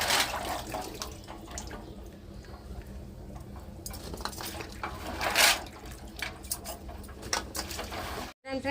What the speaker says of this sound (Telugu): చూడండి, నీళ్ళు అయితే మంచిగా వచ్చినాయి.